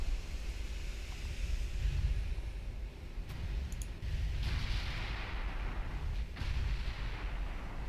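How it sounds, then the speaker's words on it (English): Heavy 12-inch naval gun fire in the warship game Ultimate Admiral Dreadnoughts, with deep booming shots and rumbling blasts that repeat over a steady low roar. Some are louder and closer, others more distant. "Absolutely getting wrecked by a 12-inch gun that was aiming at the battleship there."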